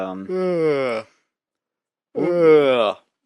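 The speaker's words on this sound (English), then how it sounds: "Sorry, that was quite the yawn." A long, drawn-out human yawn in two parts, a rising voiced stretch followed by a pause and then a second strained, groaning exhale, close and loud with no other talk.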